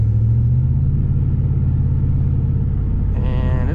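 A car idling and rumbling steadily right after a transmission install, with a low engine drone that shifts slightly as gears change down, near and continuous without speech.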